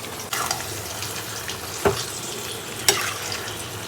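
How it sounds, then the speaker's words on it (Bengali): Marinated mutton fries in a cooked-down spice masala, giving a loud continuous sizzle with two sharp spattering bursts, close and without talk. "মাটনের মশলাটা কষে গেছে এবারে মাটনগুলো দিয়ে দেবো ম্যারিনেট করা মাটন দিয়ে দিলাম"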